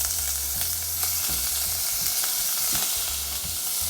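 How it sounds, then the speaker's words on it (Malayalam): Small cut pieces of chicken sizzling in hot oil in a pot, a loud steady frying hiss with occasional stirring scrapes and no talk. "ഞാനിപ്പോൾ ചിക്കൻ ആഡ് ചെയ്ത് കൊടുക്കാം കേട്ടോ."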